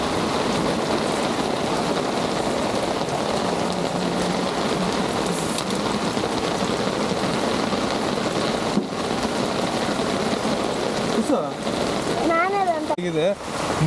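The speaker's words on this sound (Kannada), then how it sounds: "ಎಷ್ಟು ನೀರು ಬರ್ತಾ ಇದೆ ಅಂತ" Heavy rain pours steadily in Bengaluru, with rainwater rushing and splashing along the ground as a close, continuous wash; voices can be heard faintly beneath it, and a few sharp wavering sounds rise briefly near the end.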